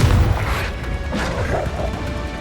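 A Confringo explosive spell blast in Hogwarts Legacy, a loud booming crash at the start that decays into rumbling debris and fainter clattering impacts.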